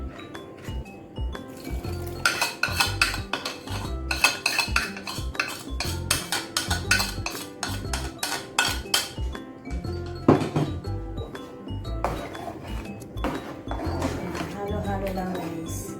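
A spoon stirs mushroom soup dissolved in water in a pan for tuna mushroom carbonara, with frequent clinks and scrapes of metal against the pan in an irregular rhythm, and a voice talks at times.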